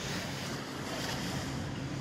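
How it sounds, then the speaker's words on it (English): Waves breaking on a Dubai beach in front of a hotel, heard as a dense continuous wash of surf with some wind rumble, steady and fairly loud with no talking. "Waves crashing on the beach."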